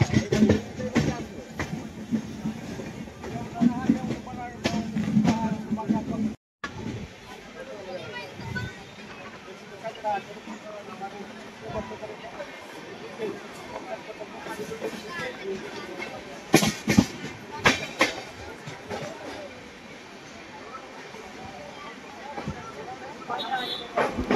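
The 12125 Pragati Express runs from Mumbai to Pune in monsoon weather, giving a continuous rumble and rattling carriage noise with occasional clanks, while voices murmur throughout.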